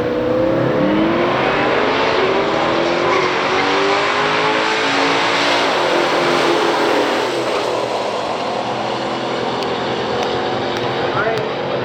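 A 1969 Dodge Dart GTS 340 and a 1970 Pontiac GT37 launch in a quarter-mile drag race, V8 engines revving loud and close with climbing pitch through the gears, a commentator's voice partly over them.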